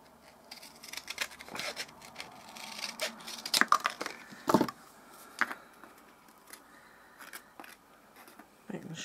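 Scissors snip thread while making bobbin lace, with several close, crisp cuts and light rustling of thread and paper between them at a quiet working level.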